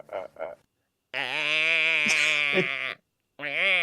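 A human voice imitates a goat, giving two long wavering bleats close to the microphone, the first about two seconds long and the second cut short, after a brief stretch of speech at the start.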